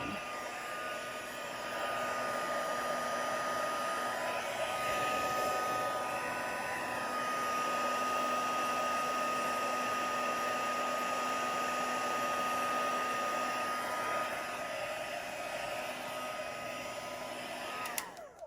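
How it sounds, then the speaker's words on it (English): An embossing heat tool blows steadily for nearly the whole stretch, a constant hairdryer-like rush at moderate level with no talking over it. "So the heat tool gets pretty hot."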